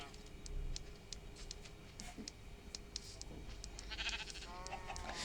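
A sheep in the video game Minecraft bleats softly amid a steady bed of game noise and scattered faint ticks, with no voices present.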